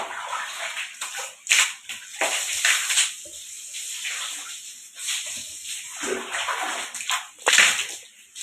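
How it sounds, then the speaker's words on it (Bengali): Water splashes and sloshes across a kitchen floor as it is washed down, with a hissing, uneven rush that swells and fades in bursts, close by, with no talk. "আমি রান্নাঘরটা না এখন ধুয়ে ফেলি।"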